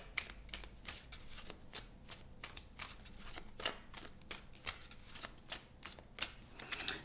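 Tarot cards being shuffled by hand, a series of crisp riffling bursts and soft slaps repeating at a steady pace, close and clear with no talking.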